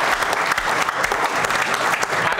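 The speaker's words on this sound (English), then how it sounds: "So should we clap for D.C.?" Studio audience applause fills the room, a dense steady wash of many hands clapping close and loud for the whole stretch, with faint voices mixed in.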